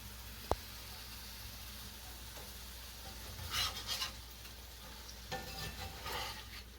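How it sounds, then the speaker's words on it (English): Soft, crackling sizzle of venison frying in a pan, faint and steady, with a few brief louder spits and scrapes. "I can hear it sizzling away."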